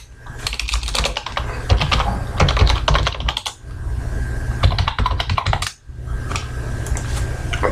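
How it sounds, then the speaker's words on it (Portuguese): Keys clatter on a computer keyboard as a password is entered, with bursts of quick close taps and short pauses over a low steady hum. "Em seguida vamos colocar a senha."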